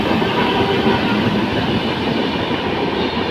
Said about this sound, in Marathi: बघू शकता ट्रेन जाते